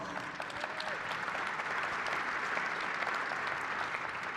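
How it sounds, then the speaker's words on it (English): A large conference audience at a satellite industry morning general session applauds Telesat CEO Dan Goldberg, steady even clapping filling the hall at moderate level throughout. "I think he deserves another round of applause."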